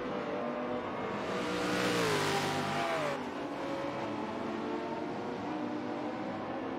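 A road-legal race car in Forza Motorsport 7, on the Nürburgring Nordschleife, roars loudly as it accelerates, its engine note climbing through the gears with a sharp shift midway, close and with no voices.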